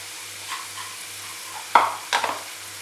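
Onion, green chilli and curry leaves being sautéed in hot oil for roadside-style mushroom masala, with a soft sizzle and two sharp scraping stirs near the end, close and alone.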